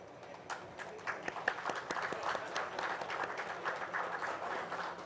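Applause rises from the audience at a panel discussion, a lively patter of many hands clapping that swells and stays fairly steady, moderately near with a faint crowd murmur.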